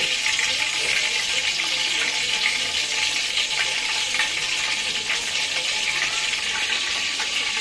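Oil poured into a hot frying pan while making a homemade afternoon snack gives a loud, dense, unbroken hiss and crackle that holds steady throughout, close and bright.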